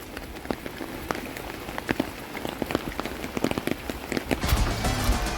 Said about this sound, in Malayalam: അസാധ്യ മഴ കേട്ടോ